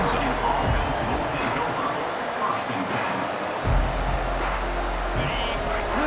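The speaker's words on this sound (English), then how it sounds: "Listen to the crowd energy here in the early going." Football stadium crowd at an Oregon vs North Carolina game, a loud, continuous roar of many voices filling the space, with a commentator talking over it.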